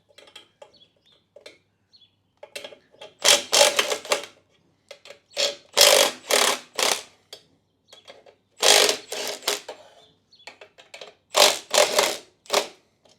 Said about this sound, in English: So what I'm going to do is I'm just going to loosen these nuts here.